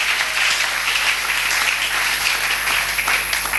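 A church congregation applauds in a steady, dense burst of clapping that holds evenly throughout, with a faint electrical hum underneath.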